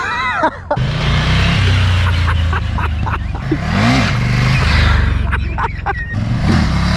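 A Ducati Scrambler motorcycle revs hard during wheelie attempts, its loud engine rising and falling through close accelerations and gear changes, with a voice speaking over it.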